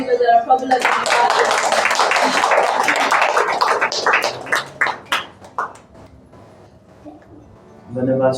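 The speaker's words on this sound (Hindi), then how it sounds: "इस समय हामी जोरदार ताली बजाएर प्रभुलाई धन्यवाद" A church congregation claps loudly together in dense, sustained applause that breaks into scattered individual claps and fades, with a voice returning at the end.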